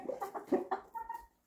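Farm chickens give a brief burst of several close, soft clucks in quick succession, then fall quiet.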